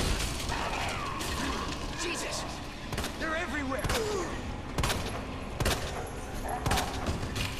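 Rapid gunshots ring out against zombies in the Resident Evil 2 remake, a string of sharp, loud cracks at irregular intervals mixed with mechanical clatter, growls and background game noise.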